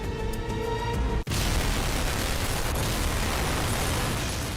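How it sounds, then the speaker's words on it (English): A colossal car bomb blast from an explosive-packed white Mitsubishi van on Legian Street, a sharp loud detonation that gives way to a long roaring rumble of debris and echo. "A second colossal explosion rips through Legian Street."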